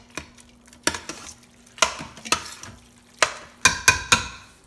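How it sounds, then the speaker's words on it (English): Sauerkraut and cooked rice being stirred in a pot, with sharp spoon clanks and scrapes against the pot in an uneven rhythm, close and distinct over a faint low hum. "mix that around, make sure you break up all of the rice"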